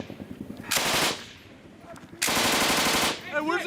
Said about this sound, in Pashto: دا ډزې له کومه ځایه راځي؟